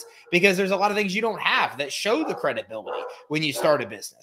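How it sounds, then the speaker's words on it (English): A pet dog barks in the background indoors after someone comes in, with short yelps partly buried under continuous close male speech. "excuse my dog. Somebody just came in, is barking in the background."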